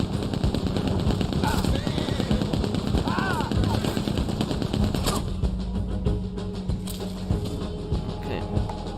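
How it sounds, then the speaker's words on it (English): Rapid gunfire from players shooting in the Red Dead Online video game, dense bursts of repeated shots rattling almost continuously and fairly loud, with a voice talking faintly underneath. "I actually feel bad shooting these players in the back"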